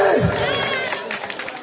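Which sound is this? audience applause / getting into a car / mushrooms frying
audience applause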